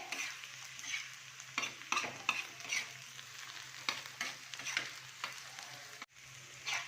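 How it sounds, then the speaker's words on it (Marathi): Ginger-garlic paste sautés in a pan for a spicy tawa prawn fry, a quiet sizzle punctuated by irregular scraping and stirring strokes, close by, with a brief dropout near the end. "आता आपण यात आपली आलं लसूणची पेस्ट टाकून घेणार आहोत"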